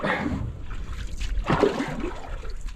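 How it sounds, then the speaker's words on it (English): A canoe paddle is pulled through lake water in uneven strokes, each with a close swish, gurgle and light splash, and no one speaks. "I'm paddling this canoe, but it feels more like I'm dragging this canoe"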